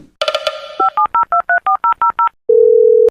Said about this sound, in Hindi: पुलिस को फोन करो